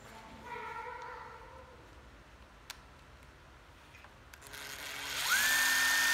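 A used Japanese cordless hammer drill driver whirs up late on, its motor pitch climbing quickly and then holding a steady whine. Before that come quiet faint ticks and a soft hum, with no speech.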